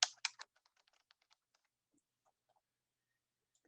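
Computer keyboard typing: a few sharp, louder keystrokes followed by a quicker run of lighter taps that thin out into scattered quiet clicks, close and alone.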